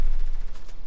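Gunfire in a video game shooter: a brief, loud burst of rapid shots filling a short moment, dense and close with no talking.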